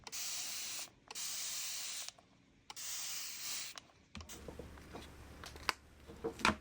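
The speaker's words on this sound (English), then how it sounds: "Next, you can give your seeds a good spraying with water" A handheld spray bottle mists water onto microgreen seeds in a tray, with three long loud hissing bursts separated by brief pauses, followed by quieter rustling and tapping handling sounds.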